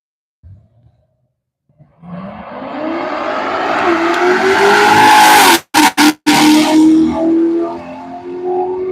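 A supercharged Corvette launching down a drag strip, a loud engine roar building and rising through the gears, with sharp breaks at the shifts, then holding strong as the car pulls away.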